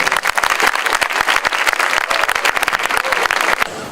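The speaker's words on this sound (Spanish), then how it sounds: "Aplausos, por favor." A room full of people at an exhibition inauguration applauds steadily, a dense, close patter of many hands clapping throughout.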